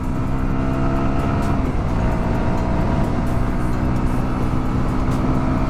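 A Runner Bolt 165R motorcycle with a 13.14 HP engine runs hard in a loud, continuous droning roar, heard up close while riding, with wind rush and no break or talking.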